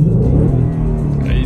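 A car engine rumbles steadily and loudly on the way to a drift meet, with a low, sustained drone that rises slightly toward the end; a voice talks over it.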